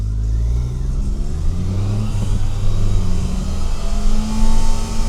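Car accelerating up to about 30 mph on a braking-test run, its mid-pitched engine note rising steadily and loud throughout, close to the microphone with no talking.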